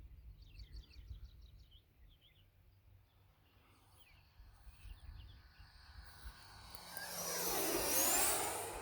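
An E-flite F-16 Falcon 80mm electric ducted-fan RC jet, at first faint and distant with birds chirping, then its whine grows into a loud rushing roar as it passes close at full throttle.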